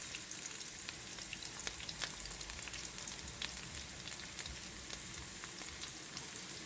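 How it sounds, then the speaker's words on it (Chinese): Scallions, dried chili, ginger and garlic stir-fry in hot oil, a continuous close sizzle with sharp crackles and pops throughout, no voices. "然后炒出葱的香味儿。"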